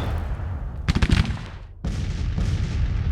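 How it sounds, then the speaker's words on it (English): Civil War cannons in Grand Tactician: The Civil War (1861-1865) fire during the invasion of Kentucky. A quick cluster of booming reports rings out near the start of the second second, followed by a lingering rumble of battle. "these cannons are firing"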